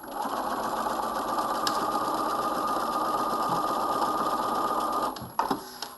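A sewing machine runs a quarter-inch seam on a coat, a steady close mechanical whirr holding evenly for about five seconds before stopping abruptly, followed by a few small handling clicks.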